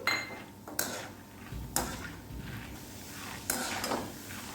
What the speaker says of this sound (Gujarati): અને અહીંયા મેં એક વાટકી મોળા ડાળિયા લીધા છે ચણાના તે ઉમેરી દઈશું તેને પણ આપણે થોડીક વાર તળી લઈશું